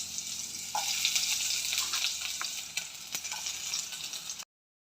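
Sliced onion dropped into a hot pan, crackling in a bright, steady sizzle up close, with a few utensil taps over it before it stops abruptly.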